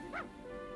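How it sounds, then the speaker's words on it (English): A single short dog bark from a Dragon Quest Builders 2 video game, a brief yip over a steady background music bed. "Go and pat that dog."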